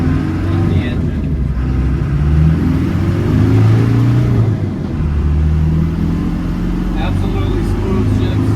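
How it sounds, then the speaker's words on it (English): Steady road noise from a 1991 Land Rover Defender 90 200Tdi in motion at about 55 mph, a constant low engine drone and tire rumble heard from inside the cabin, with occasional light rattles. "The only thing I really hear is the tires"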